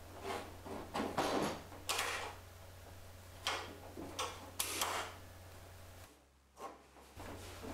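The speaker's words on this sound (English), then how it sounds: "go ahead and check the latch for proper function." Door latch on a hot rod's door being worked repeatedly, a series of sharp metallic clicks and clacks at uneven intervals, close and fairly faint, over a constant low hum.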